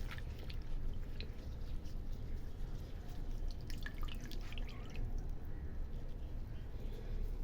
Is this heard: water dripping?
yes